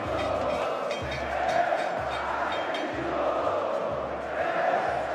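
Football supporters chant together in a packed stadium as the stage is set up for the Copa do Brasil trophy ceremony, Grêmio 2016. The roar is loud, steady and continuous, with rhythmic low thumps underneath.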